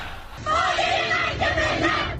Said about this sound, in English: The crowd telling him he no longer has a mandate to lead.